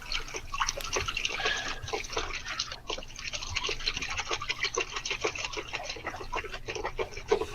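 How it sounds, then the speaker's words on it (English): Water running for someone's bath, a faint, busy patter of splashing and trickling droplets that continues steadily throughout. "I guess somebody's taking a bath."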